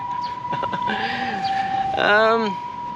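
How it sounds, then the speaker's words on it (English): An ambulance siren wails, rising and falling under someone talking, with a steady tone and a loud warbling sweep as it passes nearby on Koh Samui. "Why is it every time I record an ambulance goes by?"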